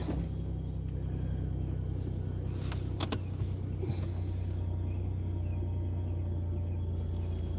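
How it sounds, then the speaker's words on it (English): A car sits idling while it warms up before a driving lesson, its engine giving a low steady rumble throughout, with a couple of brief clicks near the middle and no talk. "I'm trying to warm up the car for a moment"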